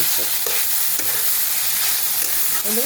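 Broccoli frying in a wok, a steady loud sizzle with repeated scraping stirs of a spatula over it, close up and with no talking.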